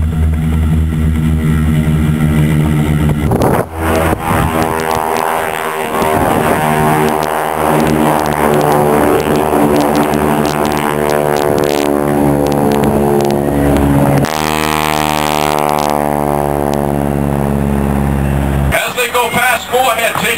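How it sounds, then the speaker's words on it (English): A pair of Harvard 2 propeller aircraft taxi along a runway at an air show, their engines giving a loud, close, rumbling drone that shifts in pitch and cuts off sharply in places. A voice talks over the engine noise. "Backtracking now on the runway. These two aircraft are Harvard 2."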